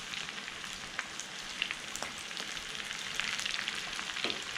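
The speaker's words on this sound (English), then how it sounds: "That sizzle." A fennel and mustard Scotch egg half submerged in hot oil sizzles steadily, a soft, even crackle with small pops throughout and no voices.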